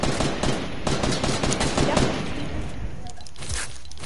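A snowball launcher fires in a video game as a rapid, loud burst of repeated shots that fades into quieter thuds, with voices chatting over it.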